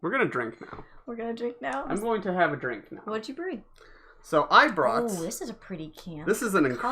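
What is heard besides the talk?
No everyday noises stand out.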